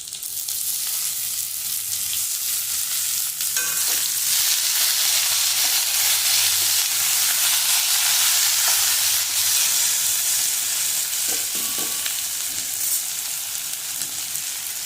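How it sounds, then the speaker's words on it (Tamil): Onion and tomato sizzle steadily in a hot pan, a loud continuous frying hiss with occasional stirring scrapes. "அதையும் அதில் போட்டு நல்லா வதக்கணும்."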